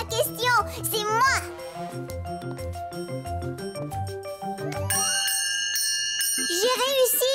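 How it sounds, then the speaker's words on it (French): A bell rung in a children's cartoon garden scene rings out with sustained tones near the end, under background music, with a voice at the start and finish. "C'est moi qui vais faire sonner la cloche."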